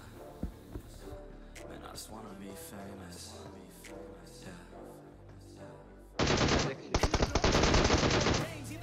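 Bursts of automatic gunfire from a mobile shooter game played on an iPad mini 5 erupt near the end, loud rapid volleys over continuous game background sound.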